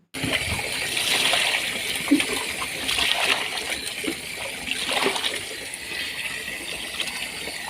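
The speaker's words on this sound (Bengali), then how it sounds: "চলো মাছগুলো ভালো করে ধুয়ে নিই।" Fresh fish, katla, bata and pabda, are washed in water with continuous splashing and running water close by, in gentle surges with no talk.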